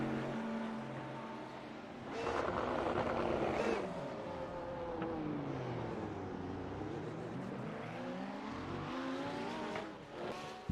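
A Lamborghini race car in a racing sim game, practicing for the Sebring 12 hours, drones steadily with rising and falling engine pitch through gear changes, loud and continuous throughout.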